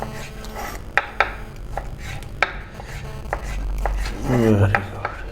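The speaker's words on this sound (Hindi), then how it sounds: "इसको हम दरमियान में से काटेंगे" A kitchen knife cuts a seedless vegetable piece in half on a board while making chicken macaroni pasta in white sauce, giving several sharp close taps and soft scraping, with a low rumble near the end.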